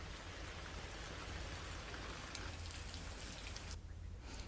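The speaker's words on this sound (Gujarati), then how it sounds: "ઉપરવાસના ઉખેડા, વમોટી વિસ્તારમાં વરસાદ પડી રહ્યો છે." Rain falling steadily over open ground in a village area of Kutch, a dense, even hiss that stays constant throughout with no voices.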